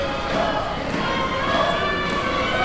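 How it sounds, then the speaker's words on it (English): A wrestling crowd at a Deep South Wrestling match roars and cheers in a continuous, dense wash of voices, with shouts rising and falling throughout. "Listen to this crowd, Nick. They are so into it."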